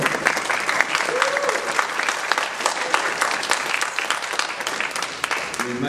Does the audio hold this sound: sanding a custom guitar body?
no